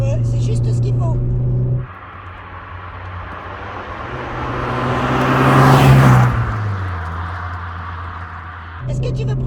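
A Volkswagen Corrado G60 engine and exhaust drone steadily from inside the car, rising into a louder swell as it accelerates and then easing off, with people talking over it.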